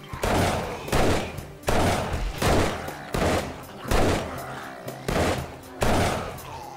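Heavy Desert Vulture pistol shots in 7 Days to Die, Darkness Falls mod, booming out in a steady series of about seven loud, evenly spaced blasts, each with a trailing echo.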